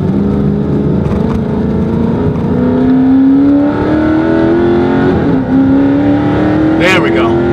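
A 2016 Dodge Charger 392 Scat Pack accelerates hard, its loud engine note climbing steadily in pitch through two long pulls with a brief dip between shifts, continuous and close throughout.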